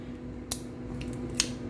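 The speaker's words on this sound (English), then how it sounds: "These kitchen shears are great." Kitchen shears snip twice, two sharp crisp clicks about a second apart, close and clear over a low background hum.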